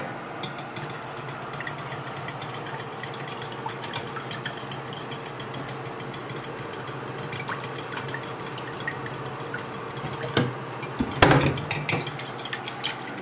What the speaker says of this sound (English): we're going to keep whisking in a little bit of olive oil